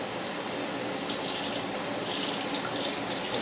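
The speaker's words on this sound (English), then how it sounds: "I'm going to draw me a little bit of water in my mixing bowl" Tap water pours into a mixing bowl in a home kitchen, a steady close hiss and splash that runs continuously with slight swells.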